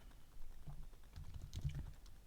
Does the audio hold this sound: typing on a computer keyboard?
yes